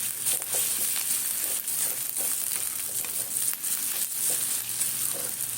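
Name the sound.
frying black cumin seeds in a pan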